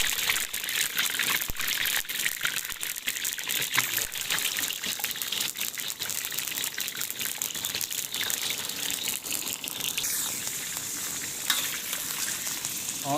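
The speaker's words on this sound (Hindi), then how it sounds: "ऑयल गर्म हो गया है, अब हम इसमें चिकन डालेंगे।" Chicken pieces drop into about two cups of hot oil in a karahi on high heat, bursting into a loud, continuous crackling sizzle with frequent sharp pops, close and unbroken throughout.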